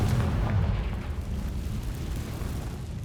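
A Confringo blasting spell explodes in Hogwarts Legacy, a loud rumbling burst that trails off into a sustained low roar and crackle, with no voices over it.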